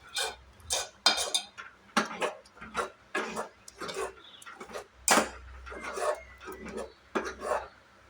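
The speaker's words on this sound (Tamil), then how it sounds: "சிம்மிலே வச்சு கிண்டுங்க" Thick ragi kali stirred in a pot over a low flame, giving a steady series of scraping knocks of the spoon against the pot, close and fairly quiet, with no talking.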